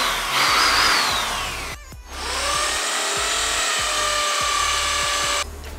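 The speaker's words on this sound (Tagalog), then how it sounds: "Pag magdi-drill ka, para diretso yung likabok dito." Power drill boring into a surface to mount window blinds, a close, loud whine that rises in pitch, pauses briefly, then resumes as a sustained grinding hum before cutting off.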